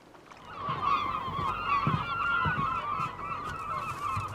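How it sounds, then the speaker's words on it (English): Flock of seagulls calling and circling around a fishing boat off the Scottish coast, a steady chorus of overlapping cries with some low thumps beneath. "what's the attraction for the flocks of seagulls suddenly circling the boat?"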